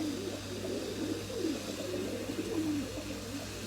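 Purebred Sabuni pigeons cooing steadily in a loft, repeated soft low warbling coos close by over a constant low hum, with no talk.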